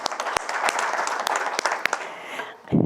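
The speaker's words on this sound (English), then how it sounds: "Big round of applause in hand." Audience at a parish council meeting clapping, a moderate round of scattered, individually audible claps continuing for a few seconds before tapering off.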